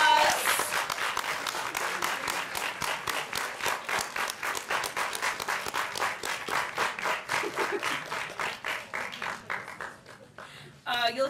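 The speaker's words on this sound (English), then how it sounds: "Let's give them another round of applause." A conference audience gives rhythmic, rapid clapping in honor of event sponsors, sustained and fairly close, slowing and thinning toward the end as a voice starts to speak.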